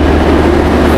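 Steady low rumble and rattle inside a crowded passenger train in motion, continuous and fairly loud with no voices standing out.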